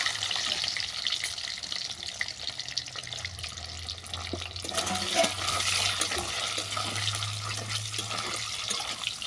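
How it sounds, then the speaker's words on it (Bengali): Beaten egg frying in oil in a pan, a continuous close sizzling hiss with a low hum underneath and faint scraping near the middle. "ডিমটা বেশি ভাজবো না অল্প করে ভেজে তুলে নিচ্ছি"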